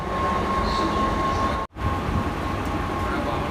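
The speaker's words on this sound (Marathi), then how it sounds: "फिरलं तर आम्ही फास्ट ट्रेन मी चढलोय बघा, थांबत नाही ट्रेन" A fast local train runs between Thane and Mulund, a steady loud rumble of wheels and carriage noise that holds throughout, with one brief sharp dropout partway through.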